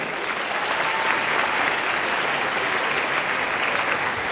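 Steady, loud applause from a cosplay competition crowd at a convention, continuous clapping throughout with no speech.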